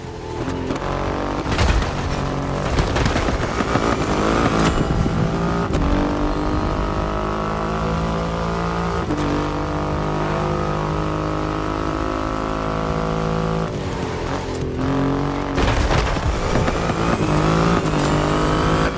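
A Triumph Rocket 3 motorcycle with a 2.5-liter engine roars and revs, the loud engine note rising through gear changes and sustaining under a strong drone with no talk.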